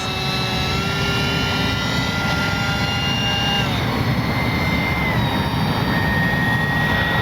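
A steady, loud turbine whine with rising and falling tones from a radio-controlled model jet of a Horten BV-38 German concept bomber flying overhead, continuous throughout with no voices.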